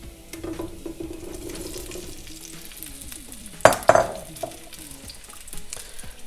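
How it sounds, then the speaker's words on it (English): Cherry tomatoes, three pints of them, go into a hot sauté pan of golden-browning oil, with a soft sizzle, stirring clatter and two sharp clanks of utensils against the pan. "So I'm gonna go in with 3 pints of cherry tomatoes."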